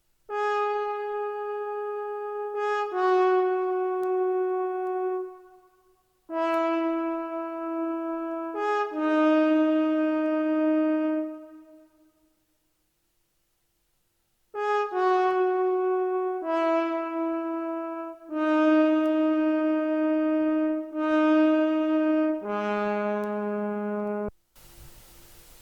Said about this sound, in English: where I added a horn from Sinful Orchestra, which also plays a melody